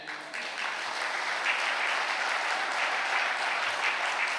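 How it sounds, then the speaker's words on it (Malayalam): A church congregation claps together at a Catholic prayer service, with steady, dense applause that holds at an even level throughout without any speech over it. "ഒന്നുകൂടെ കൈയടിച്ചേ"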